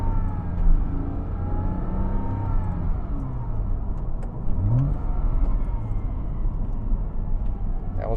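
A 2006 Porsche Boxster roadster engine revs up sharply during a downshift into first gear, a close mid-pitched blip that rises and falls over a steady running engine.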